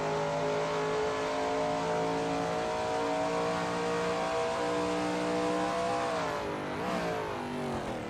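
Shelby Mustang GT350R in a racing game at NJMP Lightning, its engine holding a loud, steady high-revving drone through a turn, then the pitch dips and swings briefly as the car changes speed, with no one talking.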